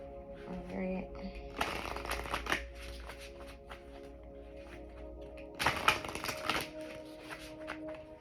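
Someone shuffles a deck of Unshakable Inner Peace cards in two distinct riffling bursts, close and crisp, over a steady background hum.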